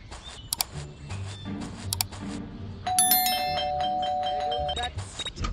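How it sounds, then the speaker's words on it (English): A doorbell rings in the Scary Teacher 3D video game, a bright sustained electronic chime heard clearly over background game noises and footsteps. "That stupid bell again."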